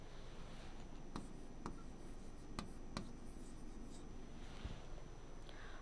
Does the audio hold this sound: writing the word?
yes